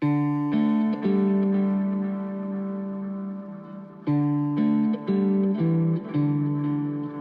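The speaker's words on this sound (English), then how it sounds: "quite nice reverb, just a touch" Guitar notes run through a Headrush MX5 delay with a light touch of reverb, held chords ringing and echoing, followed by a quicker series of plucked notes that blur softly into their own repeats.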